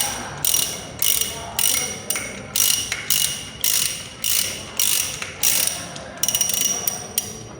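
A ratchet wrench clicks through a dozen short, evenly spaced bursts as it works nuts off the differential flange of a Toyota Kijang, crisp and close, with no one speaking.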